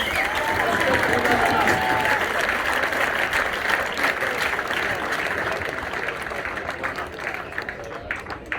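At an AFC Sudbury Academy youth football presentation day, a crowd gives a player award loud applause mixed with cheers and whoops. Clapping is strongest at first and gradually tapers over several seconds, with scattered voices heard within the crowd.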